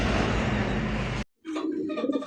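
Silver-coloured fancy pigeons coo softly and low, nearby, after a short burst of loud rushing noise and a brief silence.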